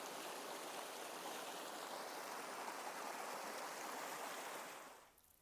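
A creek flows in a steady, dense rush of running water, close and continuous with no voices, fading out abruptly at the very end.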